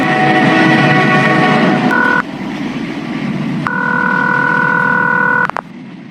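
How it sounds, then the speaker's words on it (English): A run of electronic telephone dial tones: a busy chord-like tone, a short beep, then a long steady dual tone ending abruptly, over a hollow background hum. "Ringing the police department."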